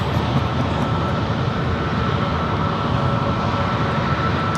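A one-year-old Airbus A321neo airliner at San Diego airport gives a steady, loud broadband jet roar that holds constant throughout, with no talking.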